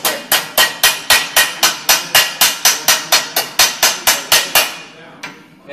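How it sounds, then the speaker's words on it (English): A blacksmith hammers hot metal on an anvil in about twenty evenly spaced, loud, ringing blows close by, then stops; a softer clank follows after a short gap. "I hammer until it goes black"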